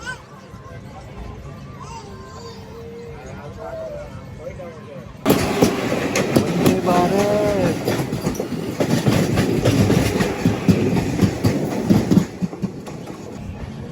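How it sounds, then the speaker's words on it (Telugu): Seshadri Express heard from inside a general coach as it pulls away after a halt near Jolarpettai: a quiet idle gives way to a sudden loud rumble and rhythmic wheel clatter, with voices talking over it. "అమ్మయ్య కదిలింది బండి"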